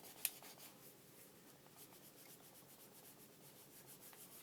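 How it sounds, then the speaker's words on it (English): A popsicle stick rubs over stamped paper on a junk-journal page, a faint, soft, steady scraping with a rhythmic back-and-forth texture and one small tap near the start. "they usually have a stick in, a popsicle stick usually, and then you just rub it on"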